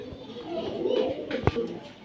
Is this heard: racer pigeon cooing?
yes